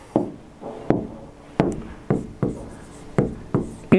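Marker or chalk writing on a board during an Arabic grammar lesson: about nine uneven tapping and scratching strokes, close and fairly loud, with no talking.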